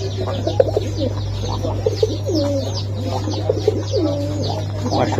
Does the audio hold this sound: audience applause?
no